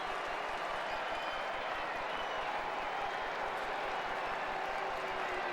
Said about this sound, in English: A lot of folks up on their feet applauding that swing by Dexter Fowler.